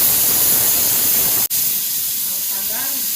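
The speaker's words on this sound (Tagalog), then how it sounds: "Kailangan kasi matanggal agad yung singaw niya." Steam hisses loudly and steadily from a pot of kabsah with lamb as the lid is released, a broad rushing noise that briefly cuts out and resumes, with faint bubbling toward the end.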